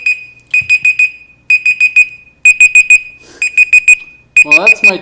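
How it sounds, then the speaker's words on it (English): An electronic timer alarm goes off loudly in repeated bursts of rapid high-pitched beeps, several beep groups with short pauses between them and a woman reacting briefly in the background. "Well, that's my timer gone crazy."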